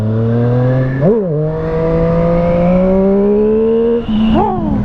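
A Triumph Street Triple RS 765 motorcycle engine revs hard and accelerates up through the gears, its pitch climbing steadily with quick dips at two shifts, loud and close, with no voices.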